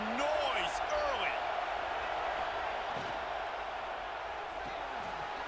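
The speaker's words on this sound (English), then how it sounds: "This crowd bringing the energy and noise early." Stadium crowd noise from the College Football 26 video game forms a steady, broad roar underneath, while a commentator talks over it throughout.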